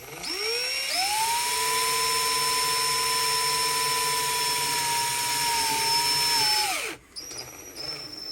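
A power drill driving screws into a portable air conditioner whirs steadily for several seconds, winding up and holding a high whine before spinning down and stopping; a short burst of noise follows.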